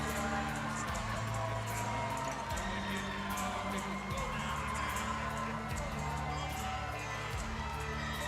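A large crowd at a professional MMA event roars and cheers continuously as a fighter makes his walkout, loud and steady with whoops over pounding walkout music.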